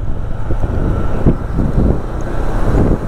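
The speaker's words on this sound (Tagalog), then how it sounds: "Sarap ng simoy ng hangin." Steady wind roars and buffets the microphone throughout near Upper Wawa Dam in Rizal, a loud, continuous rushing with gusty swells and no voices.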